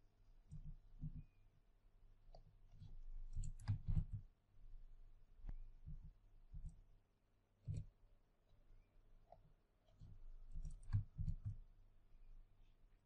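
Computer mouse clicks while working in Microsoft Project 2019, a scattered series of short, soft clicks in small clusters, close and fairly quiet against a faint background hum, with no talking.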